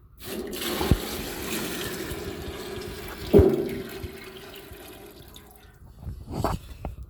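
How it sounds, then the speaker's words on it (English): Water is poured from a container into another vessel in one long, steady, splashing stream, with a couple of brief knocks as the vessel is handled. No one speaks. "so I have more water, and I'm going to pour it inside"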